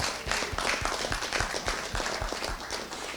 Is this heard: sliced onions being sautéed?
no